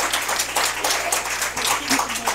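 A school meeting audience applauds Jefferson Elementary School with steady, full clapping from a crowd, dense and continuous throughout.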